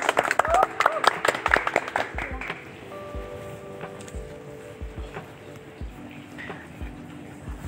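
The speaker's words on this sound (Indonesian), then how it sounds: "Beri tepuk tangan." Studio audience at a school podcast taping claps to welcome a guest, a burst of close, dense applause that fades out after a few seconds, followed by low room noise and faint voices.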